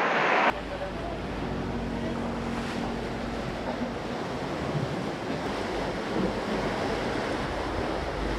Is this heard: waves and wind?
yes